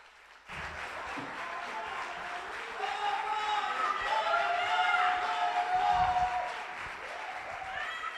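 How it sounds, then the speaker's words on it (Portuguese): A church service congregation applauds after the spoken prompt, sustained clapping swelling through the middle and mixed with sung or spoken voices and faint cheering, fairly distant and soft overall. "Aplauda o Senhor."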